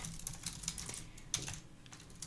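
Rapid typing on a computer keyboard while coding, a close, crisp run of irregular key clicks with a few louder taps, alone without speech.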